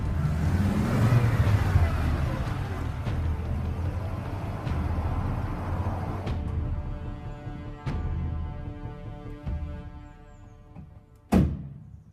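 A classic Audi Quattro engine accelerates and revs, gear changes audible, followed by sharp mechanical clicks and a loud thunk near the end.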